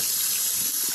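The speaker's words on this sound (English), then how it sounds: "If the phone is getting dirty, you can just wash it off in the sink." Running tap water pours steadily into a sink as a phone is rinsed under the faucet, a continuous close hiss and splash with no talk over it.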